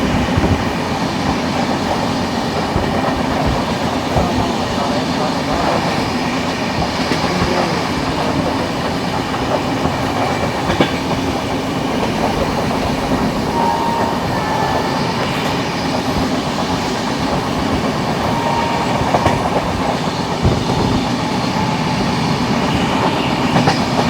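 The 12381 Poorva Express passenger train running on rails near DDU gives a loud, steady rumble heard from on board, with wheel clatter and faint squeals throughout and no talking.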